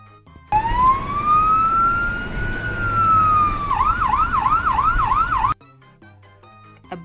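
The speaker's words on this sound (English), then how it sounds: "A white ambulance." A loud ambulance siren sweeps in a slow rising wail, then switches to a rapid warbling yelp before stopping suddenly.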